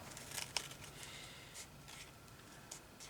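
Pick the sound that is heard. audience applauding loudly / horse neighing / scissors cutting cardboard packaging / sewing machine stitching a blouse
scissors cutting cardboard packaging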